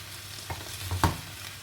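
A pan of Portuguese-style salt cod, set with a little egg, being stirred on the stove, giving soft scraping strokes and a light sizzle, with two or three brief louder scrapes standing out and no talk.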